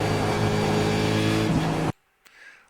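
A race car on the Road Atlanta circuit drives up a hill with a loud, steady engine whine that cuts off abruptly, followed by near silence and a faint distant noise.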